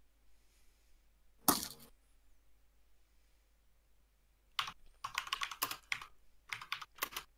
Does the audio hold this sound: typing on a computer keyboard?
yes